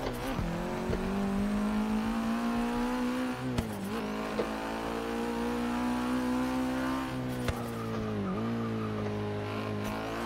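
Stock car engine in Forza Motorsport 6, a rear-wheel-drive drift tune driven with a wheel, droning steadily at high revs throughout, with small dips and two brief sharp clicks, close and loud with no talk.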